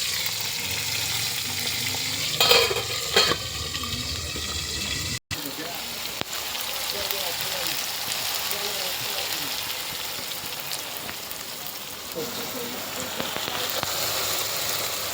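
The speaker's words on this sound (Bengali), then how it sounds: "ভাজা হচ্ছে, ঢেকে ঢেকে ভাজছি।" Food frying under a lid in a home kitchen pan, a steady sizzling hiss running throughout, with a couple of brief clatters early on and a moment of near silence midway.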